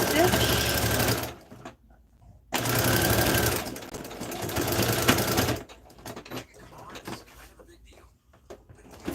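Sewing machine stitching heavy denim with a short back stitch, loud steady motor bursts with a brief pause between runs, then quieter handling sounds and light movement.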